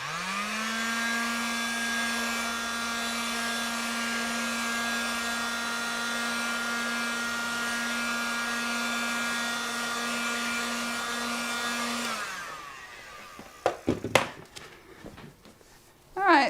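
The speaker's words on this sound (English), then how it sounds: "I have my dryer here, so I'm just going to give it a quick dry too" A hair dryer blows with a steady whining hum for about twelve seconds, then switches off, followed by a few handling clunks and knocks.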